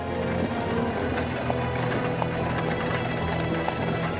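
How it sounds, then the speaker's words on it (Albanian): A cartoon horse's hooves clip-clop in a fast, continuous rhythm as it is loaded onto a cart, loud and close, with no speech. "Ngarkoje kalin në karrocë."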